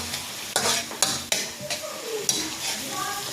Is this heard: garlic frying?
yes